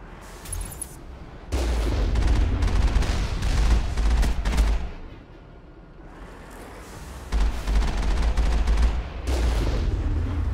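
Rocket tower defenses fire at close range in Mass Effect: loud, sustained bursts of booming gunfire, a short lull, then another heavy barrage.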